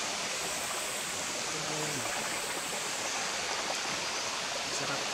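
Water at a clean waterfall pouring as a steady, soft broadband rush, continuous throughout, with faint voices briefly audible under it.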